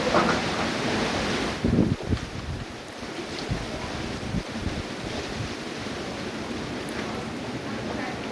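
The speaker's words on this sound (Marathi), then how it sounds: "सोसाट्याचा वारा आणि काही ठिकाणी पावसाची हजेरी आपण बघतोय।" Strong gusty wind and rain in Mumbai make a loud, broadband roar that rushes and buffets steadily throughout without a break.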